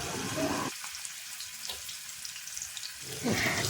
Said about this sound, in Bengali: এখন একটা ফ্রাইং প্যানে সর্ষের তেল গরম করতে দেব। তারপর একে একে ম্যারিনেটেড চিংড়িগুলোকে এর মধ্যে ছেড়ে দেওয়া হবে।